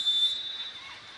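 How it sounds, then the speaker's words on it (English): A referee's whistle blows during a professional indoor volleyball match between Choco Mucho and Creamline, a single thin, steady high tone held for about a third of a second over arena noise. "Well, there's a whistle."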